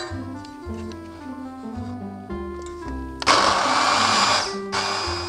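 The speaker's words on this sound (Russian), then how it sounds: "растительное масло и начинаем взбивать" A blender whipping chickpea hummus with vegetable oil, a steady loud motor whine that shifts pitch, then surges into a harsher, fuller roar as the blades churn, near and alone.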